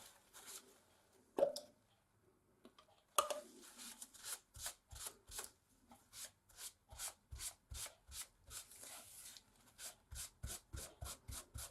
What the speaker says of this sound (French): Je vais nettoyer un peu mon stencil.